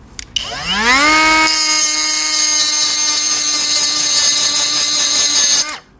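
Power tool spins up with a rising whine and then holds a loud, steady high-pitched grinding tone while abrading the top layer off a silver-plated spoon, ending abruptly.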